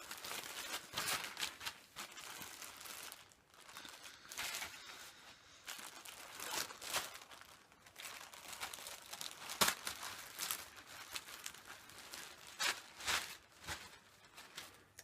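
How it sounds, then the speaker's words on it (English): A Doctor Who package with the 2018 Jodie Whittaker logo is unwrapped close by, with bursts of crinkling and tearing wrapper and paper that come in irregular clusters over about fifteen seconds, fairly quiet and with no voices. "since I'm reviewing Spearhead from Space, I might as well unwrap this"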